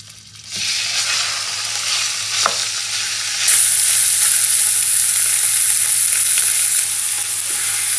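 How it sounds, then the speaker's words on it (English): Ground meat for a big batch of chili dropped into hot oil and frying with a loud, steady sizzle that swells louder midway, with a soft stir or scrape early on and no talking. "I'm just going to dump this just right on in there. And this oil is hot."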